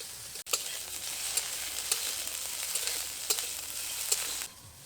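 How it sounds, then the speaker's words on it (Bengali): Cut potatoes fry in hot oil for a Bengali cucumber curry, hissing steadily up close while a spoon stirs them in regular scraping strokes, with a brief knock near the start and the sizzle easing at the end. "আলুগুলোকে কিছুক্ষণ তেলের মধ্যে ভালো করে নাড়াচাড়া করে নেব।"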